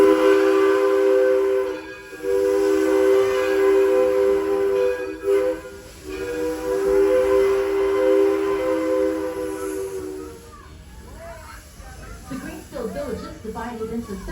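A ride on the Edison train, with a steady whistle-like chime holding a strong low tone for about ten seconds, broken by brief gaps. Rumbling train noise continues underneath, and a voice talks over the later part.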